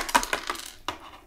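A small metal paper clip dropped onto a plate gives a few quick, bright clinks and a rattle as it bounces and settles, close and alone.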